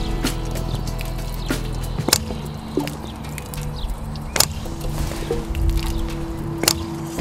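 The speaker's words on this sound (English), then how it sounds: "This sends a pulse through the water main." Pulse wave generator on a water main sending pulses through the pipe, sharp regular thumps about every two seconds over a steady low hum with faint watery trickling between them.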